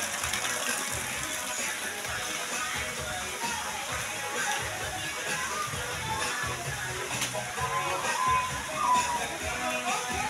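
Spring water from the mountain flows and sloshes continuously in a broad, hissing rush, with faint voices in the background.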